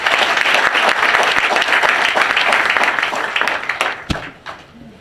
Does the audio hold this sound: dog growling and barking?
no